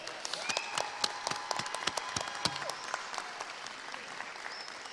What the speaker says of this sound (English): Educators, can we give these fine students a big round of applause?